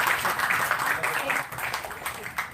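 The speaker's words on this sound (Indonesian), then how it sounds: "Tepuk tangan dulu." Audience applause at an anniversary gathering of the Banyumasan family association in Jabodetabek, a steady, fairly faint wash of clapping lasting a few seconds with some crowd noise mixed in.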